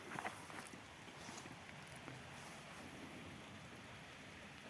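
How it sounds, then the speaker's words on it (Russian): Rain falls steadily in a wet garden during a cold, windy May spell, a soft even hiss of drops heard from nearby with no voices. "Кому дождя не хватает, получите, пожалуйста"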